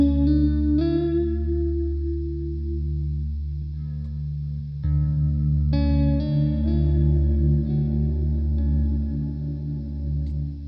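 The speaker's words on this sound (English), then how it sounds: "if you hold down that foot switch, it maxes out the decays of the reverb, making your sound huge and as big as the pedal can make it" Machin Cirrus reverb and delay pedal with its decays held at maximum by the foot switch, producing a huge, sustained wash of guitar tones that swell and ring on continuously, with new notes blooming over a thick lingering tail.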